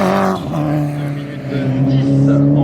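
A car engine drones loud and steady on the Nogaro race track, with a safety car out on circuit, the pitch dipping and rising as it passes while a commentator talks over it.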